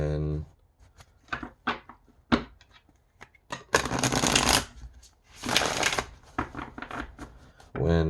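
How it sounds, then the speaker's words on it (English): A deck of playing cards is riffle shuffled in halves, giving quick bursts of fluttering card slaps and two longer rippling cascades, close up, with a person talking between the shuffles. "you kind of have to riffle shuffle it in halves"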